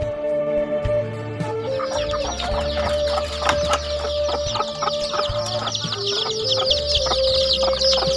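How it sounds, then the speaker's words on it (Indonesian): Chickens cluck continuously in a coop at feeding time in Padang Lawas, Sumatra, with overlapping nearby calls and some higher squawks. "aku pun bergegas menuju kandang ayam untuk memberi makan ayam-ayamku."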